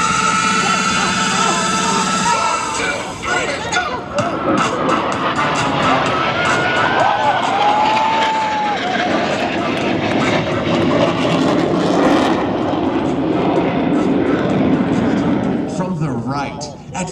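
Blue Angels jets roaring past in an opposing knife-edge pass at the Cleveland National Airshow, 2024, a loud, sustained jet rush that swells and fades, with an announcer talking over it.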